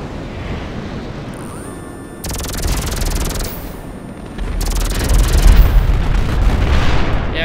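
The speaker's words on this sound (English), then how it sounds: "Who's shooting at me?" Bursts of gunfire and explosive booms from a GTA Online session, loud and dense, with heavy low rumble swelling in two waves and continuing as sustained noisy shooting.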